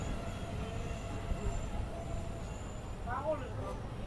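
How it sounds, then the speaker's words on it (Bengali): A diesel-hauled passenger train arriving at Baneshwar station, rumbling with squealing wheels and brake screeches toward the end, while a person talks over it. "বন্ধুরা ট্রেন এখন এসে পৌঁছেছে বানেশ্বরে।"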